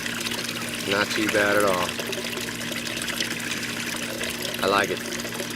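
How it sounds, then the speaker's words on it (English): A DIY venturi valve bubbles and churns water in an aquaponics tank as a constant close wash of aeration, while someone speaks briefly over it. "But that is actually creating aeration in there, under the water."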